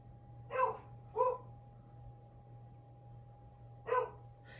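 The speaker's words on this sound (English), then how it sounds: "my puppies are barking" Three short barks from a dog somewhere off in the distance, two close together and then one more after a pause, over a steady low hum.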